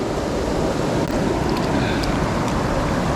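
A waterfall pours beside a fast-flowing stretch of river on a hot day, making a steady, dense rushing roar that stays even and continuous throughout, with no voices.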